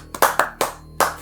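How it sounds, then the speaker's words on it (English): A small audience gives a short, sparse round of applause: four or five separate, uneven claps or small bursts spread over about a second, fairly close and with no talking. "A special round of applause"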